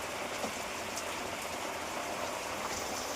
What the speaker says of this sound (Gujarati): વરસાદ ચાલુ જબ્બર થઈ ગયો